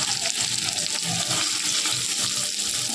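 Sliced onion and green chilies fry in a pan with grated ginger for a kohlrabi dish, making a steady, watery hiss and sizzle throughout.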